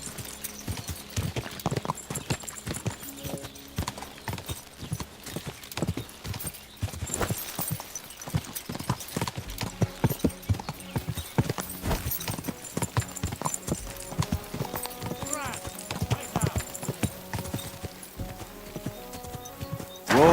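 Horse hooves clip-clop in a steady, uneven rhythm of sharp hits throughout, with an occasional neigh and a layered background of other sounds.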